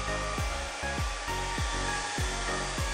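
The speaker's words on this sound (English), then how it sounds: "Heat up with a hairdryer for 1 minute." A hair dryer blows continuously with a loud, steady whoosh and whine, with a faint repeating pulse in its low hum, no voices.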